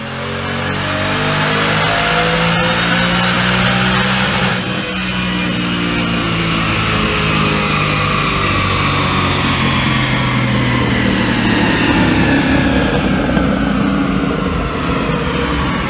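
A supercharged 2018 Mustang GT 5.0 with a Whipple Stage 1 blower revs on a dyno, its engine note climbing steadily and loudly through a long sustained pull, with a rising whine over the deep roar and no talk.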